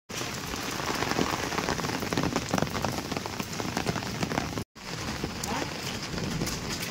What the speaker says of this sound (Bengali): ভালোই বৃষ্টি পড়ছে